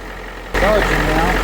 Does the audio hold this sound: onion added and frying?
no